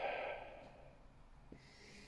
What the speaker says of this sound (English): you breathe in through your nose and out through your mouth